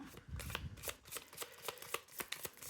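Tarot cards are shuffled by hand in a quick run of soft riffling slaps and ruffles, close and quiet, ahead of a two-card draw.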